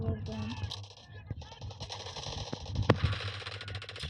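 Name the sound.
gunfire in a video game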